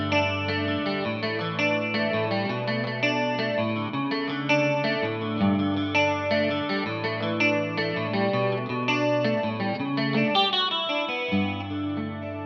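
Guitar drenched in chorus effect playing the four-bar intro chord progression of a song, ringing shimmering chords with moving bass notes, steady and upfront for over twelve seconds with no voices.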